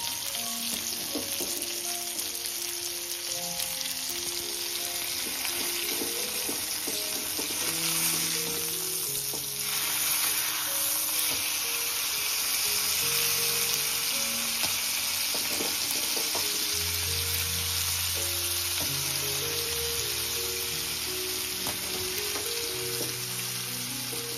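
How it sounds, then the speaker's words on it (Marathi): Fish sizzles steadily in oil in a pan over a wood-fired clay stove, with a constant bright frying hiss and clinks and turning noises underneath, all at close range and without talk. "चला आता आपण मच्छी पलटी करून घेऊ. आपली एक साईड मच्छी फ्राय झाली असेल."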